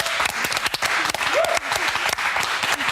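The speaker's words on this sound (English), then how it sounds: "Big round of applause for these two." TV studio audience applauding for a newlywed couple on a morning show, dense steady clapping filling the whole stretch, loud and close, with faint voices underneath.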